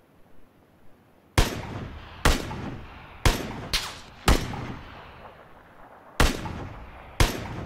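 Gunfire in the video game PlayerUnknown's Battlegrounds, with about seven loud, booming shots at irregular intervals, each followed by a rolling echo, and no speech.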